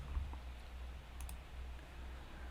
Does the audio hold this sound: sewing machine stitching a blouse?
no